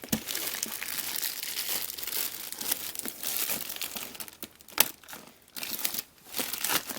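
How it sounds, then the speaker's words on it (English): Plastic wrap being pulled and peeled off a Super7 Ultimates action figure box, continuous close crinkling and crackling with tearing bursts and brief pauses, no voices. "See if we can just get this plastic off."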